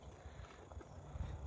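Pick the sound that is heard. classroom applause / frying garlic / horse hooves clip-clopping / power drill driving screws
horse hooves clip-clopping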